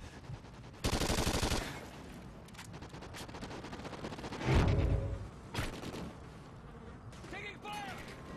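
Gunfire bursts in a Call of Duty Ghosts multiplayer match, with a loud burst near the start and another midway. Scattered shots and game sounds fill the gaps, and a voice can be heard.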